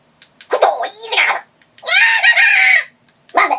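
Jawa chatter sound effects played through a TRamp Trooper Amp comm system, three bursts of squeaky, garbled alien jabber separated by short silences.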